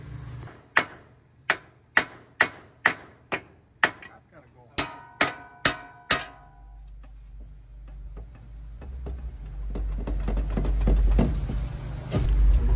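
About eleven sharp, evenly spaced metallic hammer blows ring out close by as a car's steering spindle is beaten off during a lowering-spring install on a Kia Stinger, then give way to a rising, rumbling background.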